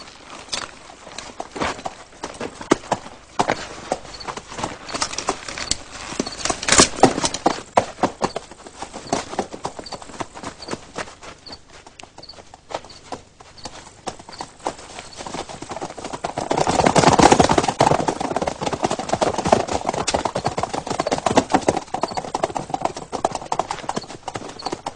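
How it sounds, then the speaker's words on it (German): Horse hooves clip-clop steadily over ground for the full stretch, several animals at a brisk pace, with a louder, closer burst of hoofbeats near the end; 1952 period film setting. "Aramis, du bringst die Pferde weg."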